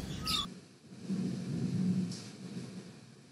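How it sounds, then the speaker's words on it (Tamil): Birds calling around the Bodhiwoods resort grounds in Mahabalipuram, a few short squawks and caws over a low steady rumble, moderately distant with no voices. "இங்கே பாருங்க, இது அங்கே உள்ள பேர்ட்ஸ் இதுதான்."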